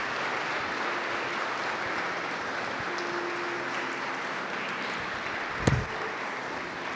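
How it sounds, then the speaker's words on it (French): Church congregation applauding at a morning service, a soft diffuse patter of clapping heard from a distance, fairly faint and steady, with one sharp knock near the end. "on va donner une grande acclamation au Seigneur encore ce matin"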